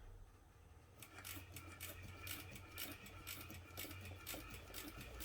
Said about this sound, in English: I'm going to sew just like 1 or 2 stitches, and then back stitch 1 or 2 stitches.